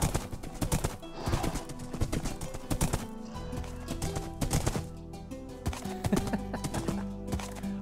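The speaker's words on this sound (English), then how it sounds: "I've got a skeleton horse!" Bony hoofbeats of a skeleton horse in Minecraft clatter in an uneven clip-clop rhythm, loud and close, with a low ambient tone underneath and no talking.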